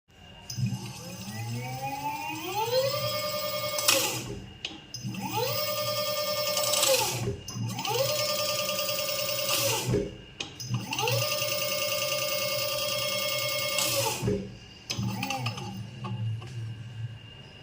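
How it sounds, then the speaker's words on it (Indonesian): Brake test on a Yadea T9 electric scooter after a brake pad change, heard as about five loud bursts of rising, whining tones with pad friction, each lasting a few seconds and cut off abruptly. "Jadi yang sekarang gesekan itu adalah gesekan dari kampasnya, bukan dari plat metalnya ini tadi ya."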